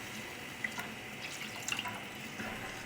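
Fragrant stock poured from a container into rice in a cooking pot, a steady soft liquid splash and trickle running throughout at low level with a few brief drips.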